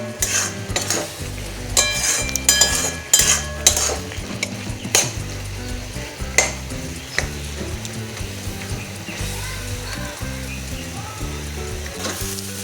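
Carrot halwa with cashews and raisins being stirred in a pan, a steady scraping and clinking of a spoon against metal over a soft sizzle, with irregular sharper knocks early on.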